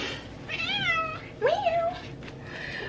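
A pet cat gives two drawn-out meows close by, the second rising then falling, over a steady background hum.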